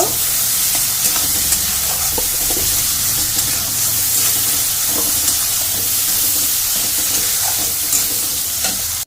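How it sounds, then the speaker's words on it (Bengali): Cumin and chili powder sauté in hot oil in a pan for Bengali rui fish biryani, giving a loud, continuous sizzle with scattered scraping and stirring ticks throughout and no voices. "একটু জিরে মরিচের গুঁড়ো হাফ চামচেরও কম দিয়ে দিলাম দিয়ে একটু ভালো করে কষিয়ে নেব"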